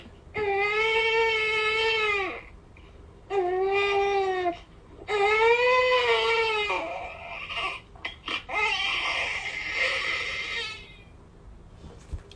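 An infant cries in long wailing bursts, three clear sobbing cries followed by fussier, broken whimpers, loud and close with no other voices.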